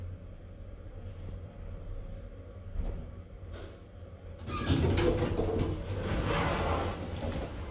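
A 2007 Suomen Hissiurakointi traction glass elevator at Mikkeli railway station levels slowly, with a low steady hum and a few faint clunks before a louder broadband rush of machinery and station noise builds in the second half.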